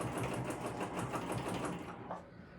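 A sewing machine runs steadily through bulky bag seams on a crossbody bag, close and loud, a continuous whirring burst that slows and stops near the end.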